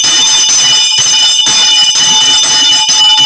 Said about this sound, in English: Sometimes we even ring a bell like tonight.